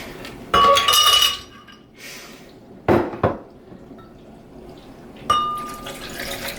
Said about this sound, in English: And you can add 1 cup of ice and milk.